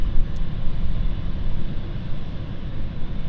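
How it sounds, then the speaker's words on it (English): A British Airways Embraer 190-100 LR jet departing London City Airport, a steady broadband engine roar that holds fairly loud and even throughout, with no voices over it. "So this is our BA 8485 flight, currently departing,"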